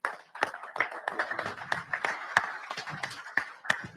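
A small crowd at a racing drivers' meeting claps in thin, scattered applause, individual claps distinct and fairly quiet, with faint chatter underneath.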